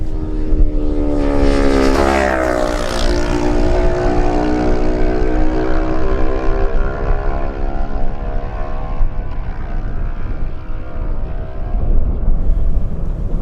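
Racing motorcycles, a Kawasaki and a Suzuki in a Lightweight road race, roar past close by with a rising then falling engine whine, sustained loud revving that fades into the distance.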